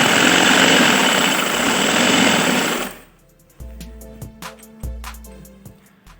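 An electric sewing machine stitching a girl's winter frock, a loud close mechanical rattle running continuously for about three seconds, then stopping and giving way to quieter intermittent clicks and short bursts of motor hum.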